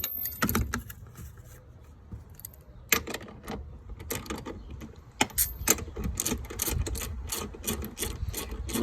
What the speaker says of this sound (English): we're going to remove this with the socket